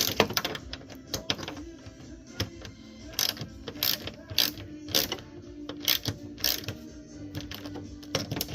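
Ratchet wrench snugging bolts while installing a Camaro wiper motor, giving close, rapid clicking bursts in an uneven rhythm over several seconds, with no speech.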